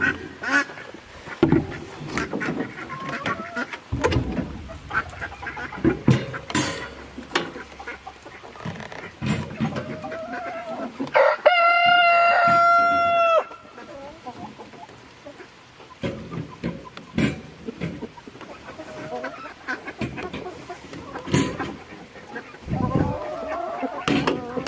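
Ducks quack repeatedly, a busy mix of short honking calls scattered throughout, near and fairly loud, with other bird-like cries and a brief sustained tonal squeal midway, mixed with background bustle.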